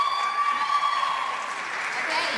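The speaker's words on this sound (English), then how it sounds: "Everybody applaud that poem one more time." An audience at a high school slam poetry competition applauds a poem, producing a steady wash of clapping mixed with crowd voices that holds at an even level throughout.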